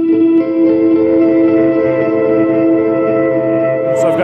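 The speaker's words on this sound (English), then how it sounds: "I can now turn on my digital delay and I can have that cascade into the reverb sound" A sustained electric guitar tone from a digital delay pedal rings out and repeats in a wash of echoes that cascade into a long, spacious reverb tail.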